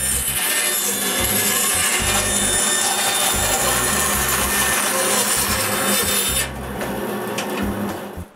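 Wooden strips for shop window frames, a little over half an inch thick, are cut to a marked round pattern, giving a steady, loud rasping cut that runs without pause before dropping slightly near the end.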